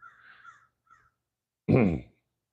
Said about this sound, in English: we got some crows flying over right now